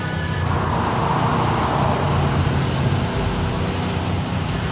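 A Ford GT40, a 200-mile-an-hour sports car, roars at speed with a loud, continuous engine drone and heavy road and wind rush, steady and close throughout.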